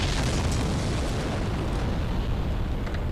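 Explosions thrown down in the video game Dark Souls, dense booming blasts that pile into a continuous loud rumble for a few seconds with no voices over them.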